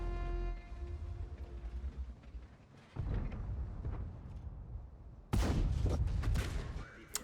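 Heavy artillery fire in the World of Tanks video game lands as deep booming impacts, one around the midpoint and a louder, sustained blast near the end, over a low rumble and some faint talking.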